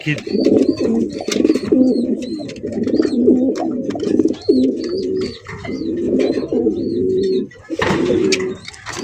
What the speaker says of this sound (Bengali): লাল লাল দেশি বোম্বাই কবুতর কিন্তু বেশি বেশি ডিম বাচ্চা করে